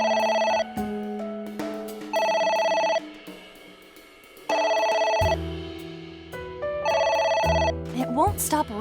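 Telephone ringing in the AI: The Somnium Files video game, a bright electronic bell trilling in repeated bursts of about a second with short gaps, loud and clear over game music and effects.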